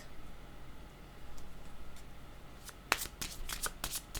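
Playing cards are handled and drawn during a card reading: faint soft rustling at first, then a quick run of crisp, sharp card snaps and flicks close up.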